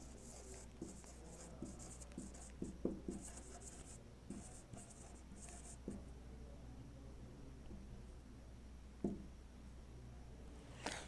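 Chalk or marker scratches and taps on a classroom board in short, faint strokes over low room hum, with a louder knock late on.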